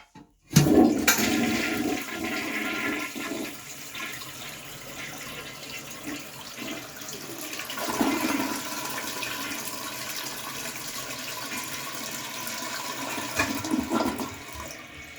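A 1961 Kohler Wellworth toilet flushes with a loud, strong rush of water that starts abruptly, then settles into a steady swirling drain and refill hiss that continues to the end.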